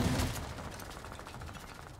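Rapid turret gunfire in a video game, a fast continuous stream of shots with one heavier burst at the start, then a rattling barrage that stays fairly quiet and distant.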